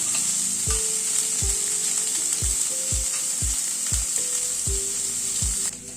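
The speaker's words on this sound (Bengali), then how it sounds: "গ্যাসের ফ্লেমটাকে মিডিয়ামে রেখে পেঁয়াজটাকে ভেজে নিচ্ছি।" Onions fry in a pan over a medium gas flame, a steady close sizzle broken by regular scraping stir strokes roughly every half second.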